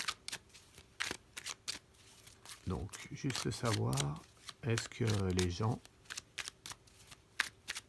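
A deck of cards riffled and shuffled in quick crisp bursts, close and quiet, with someone talking over part of it in between the flurries of card flicks.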